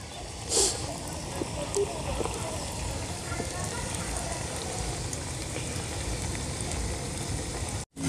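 Coriander leaf pakoras deep-frying in hot oil, a constant soft crackle and sizzle running steadily throughout, fairly faint, with a brief louder clink near the start and an abrupt cut at the very end.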